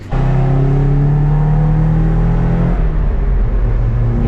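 A Nissan 300ZX Z32 accelerating hard, a loud close engine drone climbing steadily through the rev range, then a brief shift and a fresh climb, with no talk over it.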